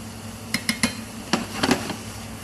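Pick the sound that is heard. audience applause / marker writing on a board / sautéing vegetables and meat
sautéing vegetables and meat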